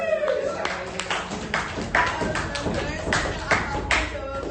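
Scattered audience clapping in a classroom guidance session on public speaking, uneven individual claps and taps at close range, with no voices over it.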